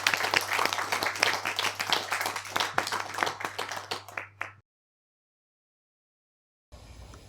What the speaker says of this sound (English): giving a round of applause and a warm welcome to Ms.